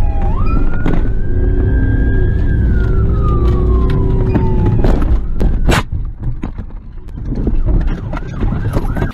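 A Norwegian police car siren wails loud and close during a chase through a park, heard from inside the pursuing car, its rising and falling tone sustained for several seconds before giving way to engine noise and knocks.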